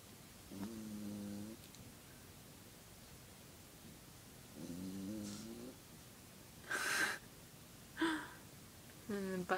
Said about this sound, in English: So my dog's snoring really loudly.